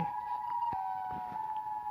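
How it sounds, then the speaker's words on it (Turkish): A steady electronic siren tone in a Minecraft game holds a single pitch with a small downward step midway, continuous and fairly faint over a low background. "Bu da siren."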